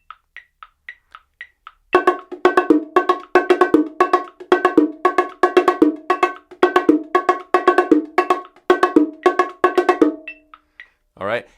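Bongos play a calypso groove, a steady, syncopated pattern of crisp, close hand strikes repeating for about eight seconds. Metronome clicks tick alone for two seconds before the drumming enters and return briefly after it stops.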